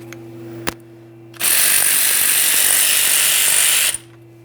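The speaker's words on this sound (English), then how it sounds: "We need to remove the banjo bolt." Ratchet loosening the banjo bolt on a Ford F-150 front brake caliper, a quick close rasping ratchet run of about two and a half seconds after a single sharp click, set against a faint steady hum.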